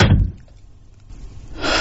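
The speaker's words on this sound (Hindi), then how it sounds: "और मैंने दरवाजा बंद कर लिया।" A door shuts as a sound effect in a spoken horror story, a muffled dull thunk with a low rumble that fades and then swells again, heard alone without narration.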